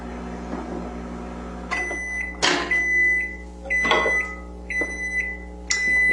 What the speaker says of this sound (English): I'm going to pop that in the microwave and melt our butter.